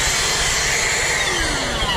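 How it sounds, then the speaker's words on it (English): A new Ryobi cordless vacuum runs inside a truck cab, giving a steady, loud motor whine with a constant airy rush and no break across the whole stretch. "Just got this new Ryobi vacuum."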